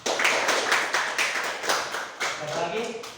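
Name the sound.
class clapping hands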